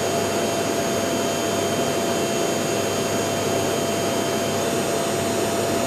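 CNC milling machine running a basic sample program, with the spindle and bed feed speeding up. A steady, loud, close whine and whir with a constant high tone runs unbroken throughout, and no one talks.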